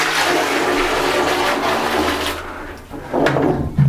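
Leftover dishwater is poured into a toilet, which then flushes with a loud rushing gurgle that fades, followed by a few clunks and the tank beginning to refill.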